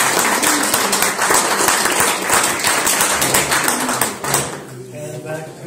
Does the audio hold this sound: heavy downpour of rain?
no